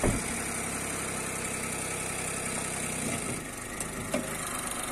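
A Daewoo Matiz engine idles with the hood open, giving a steady, close mechanical hum and vibration that holds evenly for the whole stretch, with only slight dips and a couple of small clicks.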